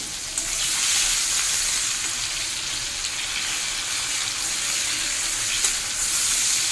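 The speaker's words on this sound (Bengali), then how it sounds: "এখন দেবো কুচনো পেঁয়াজ" Chopped onions frying over high heat in oil with cardamom, cloves, cinnamon and bay leaf, a loud continuous hissing sizzle, close and steady throughout, without speech.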